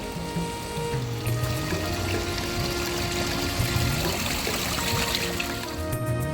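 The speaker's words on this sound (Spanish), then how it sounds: "Y unos pasitos más adelante está esta fuente con un estilo muy urbano." Water trickles and splashes steadily in an urban-style street fountain near a Chinatown Airbnb in central Vancouver, fairly close, under soft city ambience with no speech.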